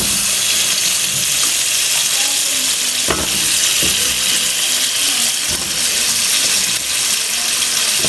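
Drained potatoes fry in a hot pan for aloo curry, sending out a loud, continuous sizzle with occasional clicks and scrapes of stirring.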